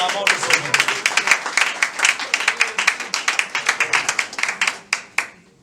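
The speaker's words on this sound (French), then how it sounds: "On applaudit" Applause from a church congregation at a Full Gospel service in Togo: a steady burst of many hands clapping, loud and close, with rhythmic sharp claps running throughout before fading briefly near the end.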